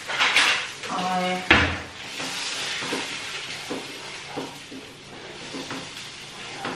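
Ginger, green chili and peas being fried as a kachori filling, with a soft sizzle, a spoon scraping and clinking against the pan, and someone talking throughout.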